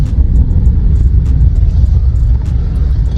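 Road traffic in Delhi rumbles along heavily, with low engine noise from passing vehicles and faint scattered clicks and knocks layered over the steady drone.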